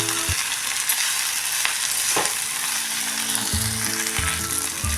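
Sliced onion and cluster beans (gavar) sizzle steadily in a hot pan on a home stove, a dense continuous frying hiss broken by a few louder spatula scrapes and stirring knocks, close and with no talking.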